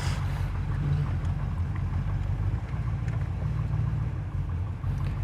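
A 1972 Corvette Stingray engine idles with a steady, deep, close rumble that holds constant throughout, with no talking.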